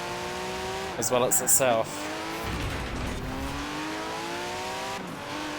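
In Forza Horizon 4, a car engine strains around a corner, its drone rising in pitch as the revs climb, with a short burst of tire squeal, loud and close while a person talks over it.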